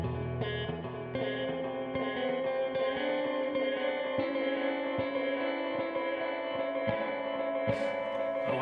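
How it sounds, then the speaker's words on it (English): Electric guitar notes ring out softly through a splashy spring reverb and tape delay, with echoing repeats trailing behind each plucked note. "now I've got a little spring reverb and a tape delay."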